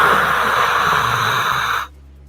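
A human voice mimics the loud rushing hiss of an air-conditioning vent blowing over a Pixel phone, a steady breathy whoosh held for nearly two seconds before it stops abruptly.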